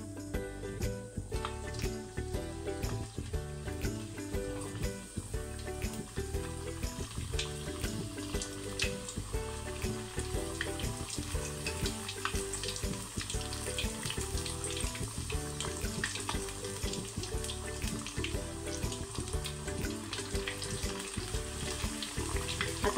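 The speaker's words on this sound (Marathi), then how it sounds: "आता आपण ह्याच्यामध्ये एक एक मुठी ॲड करूया." Muthiya dumplings for undhiyu frying in hot oil, a dense continuous crackling sizzle with rapid popping that holds steady and fairly loud for over twenty seconds, with no one speaking.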